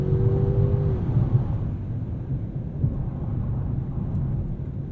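A 2022 Mercedes-Benz S 580 accelerates from inside the cabin, its low engine rumble and road roar building in a steady, muffled drone, while a brief tone fades out early on.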